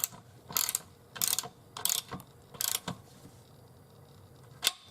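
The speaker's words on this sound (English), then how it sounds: "you have a socket set, 1/2 inch, hold the socket, start tightening down" A 1/2-inch socket wrench tightens bolts on a Casio CDP-230R digital piano stand, giving four short bursts of ratcheting clicks with pauses between them and one final quick click, close and clear with no talk.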